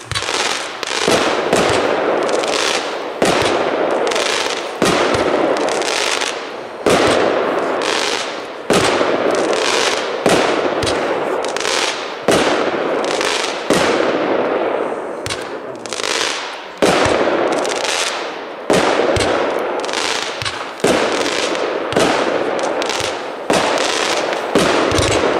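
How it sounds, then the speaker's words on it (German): A Twin Power 18-shot firework battery fires at a demonstration shoot, loud rhythmic thumps and crackling bursts repeating every second or two throughout, sustained and outdoors, without speech. "Eine 18-Schuss-Batterie mit einem UVP von 19."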